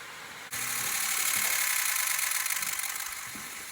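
After a key cycle on a 6.0 race truck, the fuel pump primes with a steady, loud electric whine and hum that starts abruptly and runs alone, close by.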